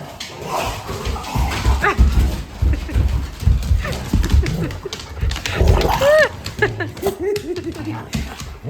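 Family dogs bark and yip in a busy room, the barks sharp and repeated amid a child's and adults' voices and playful commotion, with a few whimpering, rising yelps near the end.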